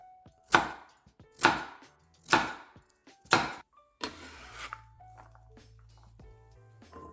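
A knife cuts carrots into half circles on a board in four sharp, evenly spaced chops, followed by a softer scraping sound and a low hum.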